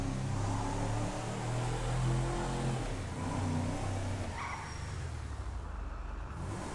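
Cars in GTA Online rev loudly with dense engine noise for several seconds, ending in a crash as another car hits the player's vehicle, then the roar drops away.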